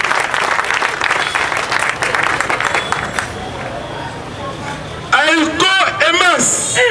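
A political rally audience applauds the head of state, with dense sustained clapping and crowd noise for several seconds before a loud voice breaks in over the fading applause.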